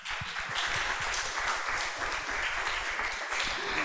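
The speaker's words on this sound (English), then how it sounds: "Please give all the contestants another big round of applause." A school audience applauds the contestants at a school English speech contest, a sustained round of many hands clapping, even and full, heard near and alone.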